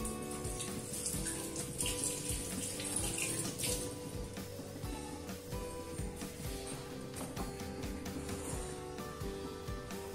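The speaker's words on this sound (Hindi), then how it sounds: "और मैं थोड़ा हाथ धो लेती हूँ।" Water running steadily from a tap while hands are washed at a home kitchen sink, a continuous close splashing hiss with no talk throughout.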